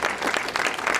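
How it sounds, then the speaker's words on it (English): Brief burst of dense, even audience applause at a conference, loud and close, with no voices over it. "I would like to give a big round of applause to Raj and his staff member Harini, Kelsey, Kelly, and Ramesh."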